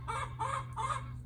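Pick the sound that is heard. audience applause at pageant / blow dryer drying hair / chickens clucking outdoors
chickens clucking outdoors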